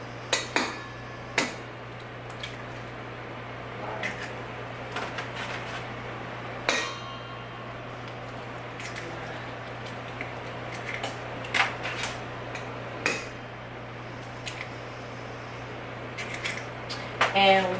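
Eggs cracked one after another against a bowl rim for homemade bread pudding, making sharp, irregular taps and clicks over a steady low kitchen hum, with a few louder knocks spread across the stretch.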